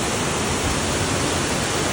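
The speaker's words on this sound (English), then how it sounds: "And there's the big waterfall." Admiral Falls in Simonstown, a big mountain waterfall swollen after heavy rain, pours in a steady, full broadband roar, close and unbroken throughout.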